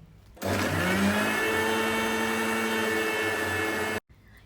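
Loud, steady whirring from a mixer grinder spinning at full speed for several seconds, with a sharp start and an abrupt stop, made while preparing ghee.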